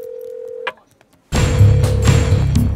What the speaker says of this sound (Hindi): प्रीत फोन नहीं उठा रही क्या?